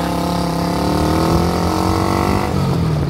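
Honda CG Today motorcycle accelerating in first gear, its single-cylinder engine revving close and loud with a steadily rising pitch before easing off near the end.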